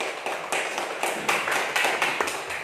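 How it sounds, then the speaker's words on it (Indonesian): A class of students applauding together, a steady run of overlapping hand claps with a few stronger bursts, fairly close and sustained over a roomy background. "Tepuk tangan untuk kita semua."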